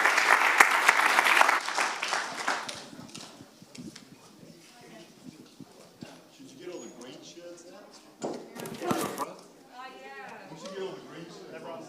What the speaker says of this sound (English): Another round of applause for all these guys to answer the questions.